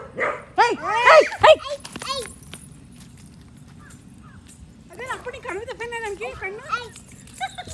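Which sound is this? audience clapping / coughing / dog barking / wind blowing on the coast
dog barking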